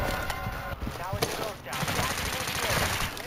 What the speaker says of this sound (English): Yeah, I'm getting shot from the left, like due west almost.